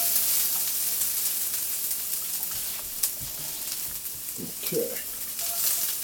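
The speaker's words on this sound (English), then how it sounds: "I'm going to drop the onions in because they take the longest to cook." Chopped onions hit hot olive oil in a pan for haluski with cabbage and bacon, giving a soft steady sizzle with a few brief stirring clatters, quiet and close, and one short spoken word.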